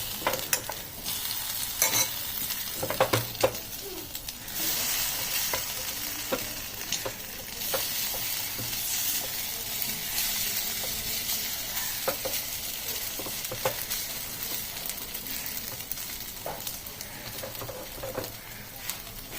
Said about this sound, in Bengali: আর একটু ডিপ ফ্রাই করতে পারেন